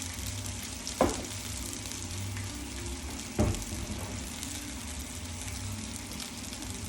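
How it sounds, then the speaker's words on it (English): Onions and garlic fry in warm coconut oil with a steady close sizzle, broken twice by brief knocks of a utensil against the pan, and no voices. "I'm just going to cook up the onions for the most part a little bit first."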